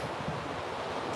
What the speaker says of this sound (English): I like how frequent the waves are this morning too